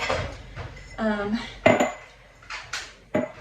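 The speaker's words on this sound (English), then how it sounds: "I'm unloading and reloading my dishwasher." Dishes, pots and cutlery clink and clatter in a series of sharp knocks and rattles as a home dishwasher is unloaded and reloaded, close up and uneven in rhythm.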